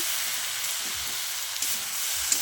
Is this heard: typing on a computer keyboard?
no